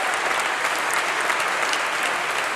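At a university graduation ceremony, an audience claps together in a dense, even wash of applause that holds steady throughout, heard from within the hall.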